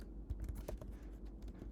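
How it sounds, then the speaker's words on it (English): Code is being typed on a computer keyboard as a quiet, rapid run of close key clicks over a low background hum. "you get very used to typing the exact same thing over and over again"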